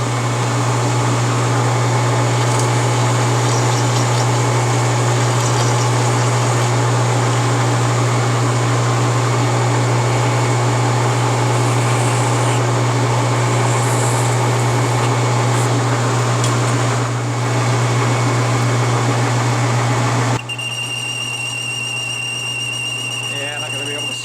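A machine turning slowly at 460 RPM resizes half-inch stainless steel sleeves with a constant close mechanical hum and whine that drops to a quieter, thinner drone near the end.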